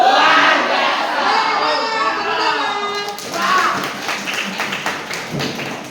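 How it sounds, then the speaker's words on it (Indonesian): Junior high school students at an outreach session clap and cheer together, loud crowd shouting and applause close by, fading into scattered claps and chatter. "Tepuk tangan dulu."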